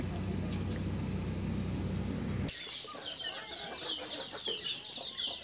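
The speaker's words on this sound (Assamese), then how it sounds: "এইবিলাক দেখিছেনে কিমান মুৰ্গী আছে" Hens clucking in a household poultry setup kept for eggs, a busy overlapping chorus of clucks and squawks, loud and close, following a stretch of low rumbling noise, with talk in the background.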